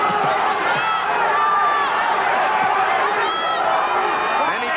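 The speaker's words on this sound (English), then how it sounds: "Crowd urging Chacon on, but has not been able to land much" Boxing arena crowd roaring and cheering Bobby Chacon on during his 1983 rematch with Boza Edwards, a dense sustained wall of voices with shouts rising out of it, under a commentator's talk.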